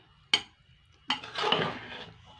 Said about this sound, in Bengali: একটু নেড়ে চেড়ে দেবো একটুখানি।